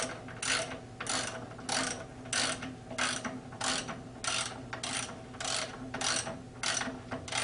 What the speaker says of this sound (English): I'm not going to tighten all the bolts up since I'm using a ratchet